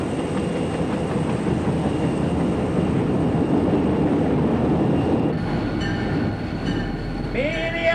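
A passenger train pulls into the Minneapolis station in 1974, a loud, continuous rumble of rolling wagons that ends in a brief metallic wheel squeal, with faint voices in the background.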